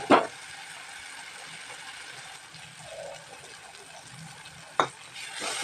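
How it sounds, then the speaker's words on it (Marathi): Onion and tomato with spices fry gently in oil, a soft continuous sizzle broken by a couple of sharp stirring scrapes of a utensil against the pan. "इथे बघू शकता किती छान असं कांदा टोमॅटो फ्राय झालाय."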